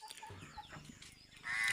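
Chickens being treated for illness cluck softly and intermittently at close range, a few quiet short calls followed by a brief louder noise at the end.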